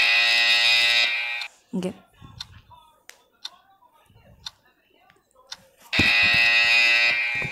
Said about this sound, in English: I don't know what that alarm means